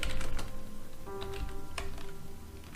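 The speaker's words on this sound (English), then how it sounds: "Let me type 100 milliseconds into seconds." Typing on a computer keyboard, quick light key clicks in short bursts, close and fairly quiet, with no talking.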